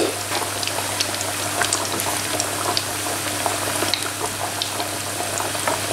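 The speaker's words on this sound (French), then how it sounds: "Et que je vais faire frire dans un bain d'huile bien chaud" Makrout, semolina pastries filled with almonds, fry in a deep bath of hot oil, giving a steady close bubbling sizzle with tiny crackles throughout and no talk.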